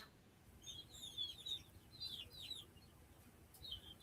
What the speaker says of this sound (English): all of a sudden I could hear the birds